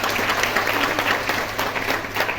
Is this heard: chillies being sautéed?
no